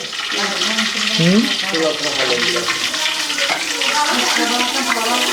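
Meat frying in hot oil, a steady close sizzle and crackle that runs through the whole stretch, with someone speaking over it.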